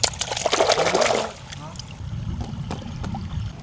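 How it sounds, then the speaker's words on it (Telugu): Mushrooms are washed by hand in plenty of water for a tribal mushroom curry, with close splashing and swishing that loudens for the first second or so, then softer trickles and drips, with people talking nearby. "ఈ పుట్టగొడుగులను అయితే మంచిగా కడుగుదాము"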